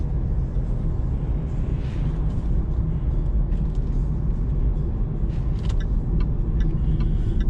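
Interior of a 2015 Jaguar XE 25 Prestige on the move, a steady loud low road and engine rumble with constant tyre noise throughout and a few faint higher clicks near the end.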